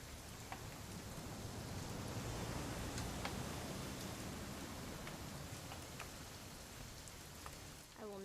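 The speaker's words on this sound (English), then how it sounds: "It's gonna rain the whole weekend, isn't it?" Steady rain falls throughout a scene in the video game What Remains of Edith Finch, an even hiss with scattered droplet ticks, heard alone with no talk.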